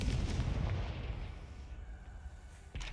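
A Confringo blasting spell explodes in Hogwarts Legacy, a loud, deep booming burst that rumbles and fades over a couple of seconds, followed by a sharp thud near the end.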